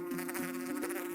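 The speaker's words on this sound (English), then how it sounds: "That's what makes the buzzy bee sound you hear." A honeybee's beating wings make a short, steady, droning buzz that stays even and close throughout.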